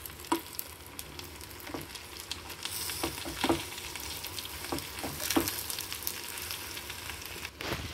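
Spinach and lentils for palakura pesaru pappu sizzle and fry in a pan while being stirred, a steady crackle broken by repeated soft scraping strokes of the spoon, close and alone without talk.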